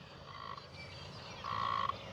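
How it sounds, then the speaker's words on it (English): A frog croaks outdoors at a model airplane flying field, two short buzzy calls with the second longer and louder, over steady wind and background noise. "Excuse my frog."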